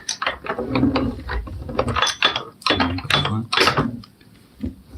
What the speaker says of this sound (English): You can feel the rollers get tight, so sometimes you don't want to adjust it anymore, you just want to roll it through a few times.